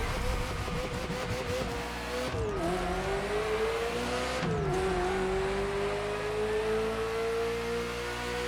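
A Ferrari F40 supercar in the racing game The Crew Motorfest revs hard and climbs through the gears, its engine note dropping briefly at two quick upshifts before pulling steadily higher, loud and close with no talking.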